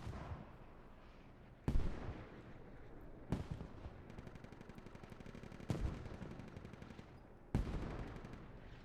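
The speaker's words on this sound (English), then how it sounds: "the mortars are starting to rain down on this hab" Repeated heavy explosive mortar booms in the video game Squad at irregular intervals over a constant backdrop of distant gunfire and battle noise.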